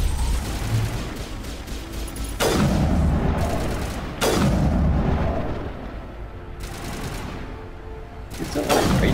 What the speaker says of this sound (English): Alright, it's time to switch to a sniper rifle.